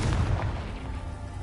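Confringo fire spell explosion from the Hogwarts Legacy video game, a deep, heavy boom already under way that rolls into a low rumble and slowly tapers off, with no voices.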